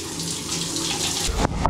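Shower water runs steadily in a bathroom, a close, continuous hissing spray that briefly shifts near the end, with no talking.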